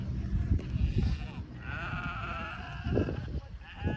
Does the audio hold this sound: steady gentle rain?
no